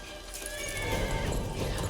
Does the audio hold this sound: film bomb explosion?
no